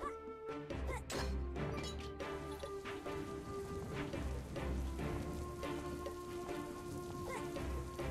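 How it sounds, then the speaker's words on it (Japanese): Rain in the Breaking Gates video game pours steadily in a dense patter of drops, with a few sharp crashing hits near the start and background game music underneath, no speech. "雨が降っています"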